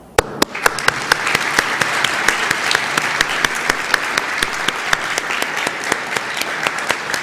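Conference audience applauding steadily, a dense wash of claps with sharper individual hits standing out, starting abruptly and holding at a fairly even level throughout.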